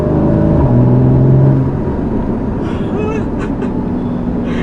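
A Porsche Boxster 2.7 (981) engine accelerates on the road in Jakarta, with a loud rising note that drops after a second and a half to a steady, softer hum. Some faint squeaks and rattles follow.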